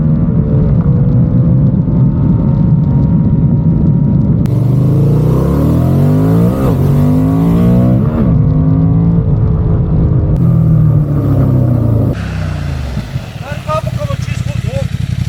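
A Honda Transalp motorcycle engine revs repeatedly, its pitch sweeping up and down through several loud throttle blips before settling, close and prominent with a few abrupt cuts in the background.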